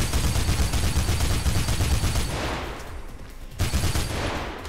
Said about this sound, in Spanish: ¿Quién coño me está disparando?